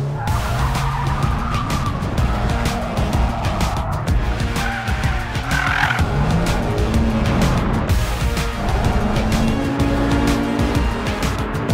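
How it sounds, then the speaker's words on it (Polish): A go-kart with David Coulthard at the Red Bull Ring karting track races at speed, its engine droning loud and constant while tires squeal and skid through the corners, with no talk over the noise. "Jedziemy z Davidem Coulthardem na nitkę kartingową."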